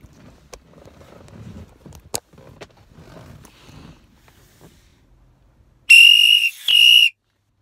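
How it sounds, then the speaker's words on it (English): Quiet rustling and faint movement, then two loud, piercing whistle blasts in quick succession, the first about a second long and the second shorter, close and dominating. "And I'm gonna be blowing the whistle like this."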